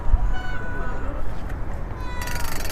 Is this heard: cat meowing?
yes